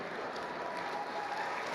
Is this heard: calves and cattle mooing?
no